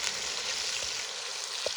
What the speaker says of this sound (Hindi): अब मैं अपने प्याज को साथ साथ हल्का सा हिला के फ्राई कर देंगे